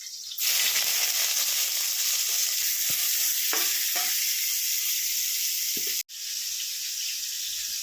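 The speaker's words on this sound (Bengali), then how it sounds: "এখানে দেখতেই পাচ্ছ ভাজা চলছে দুদিকে দুটো ভাজা বসিয়ে দিয়েছি" Crab frying in two pans side by side, a loud continuous hissing sizzle that starts abruptly, with a few soft stirring knocks and a brief cut near the end.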